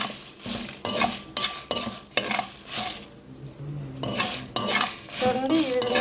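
Curry leaves roasting for karivepaku podi, stirred in a pan with a spatula: repeated scraping and rustling strokes at an uneven rhythm over a light sizzle, close and fairly loud, with a brief quieter pause midway.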